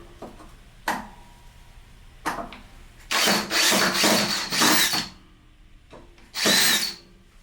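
A Ridgid 18V sub-compact brushless drill/driver in drilling mode with a 1/2 inch bit, giving short trigger blips and then several loud sustained whirring runs, close up and alone.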